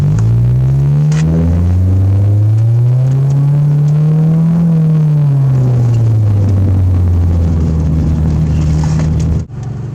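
A car engine with its mufflers removed and set to sport mode revs loud and close. Its deep rumble climbs and then eases back down before cutting off abruptly at the end.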